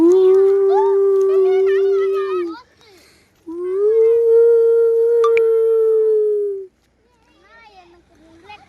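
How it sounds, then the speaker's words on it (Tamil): A dog howls in two long sustained, wavering tones, loud and close, with a short pause between them, followed by faint higher whimpering or child-like vocal sounds. "அதெல்லாம் சும்மா நாய் தான்"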